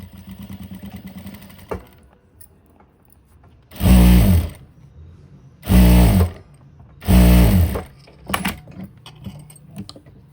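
A tailoring sewing machine runs during bobbin winding in three loud, close bursts of about a second each, separated by quieter pauses, with no talking.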